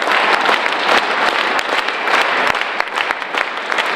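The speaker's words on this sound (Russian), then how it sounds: "московский зритель наградил артистов Волгоградского музыкального театра долгими продолжительными аплодисментами и овациями" Long, dense applause from a theatre audience in Moscow for a Volgograd musical theatre company, steady and loud throughout.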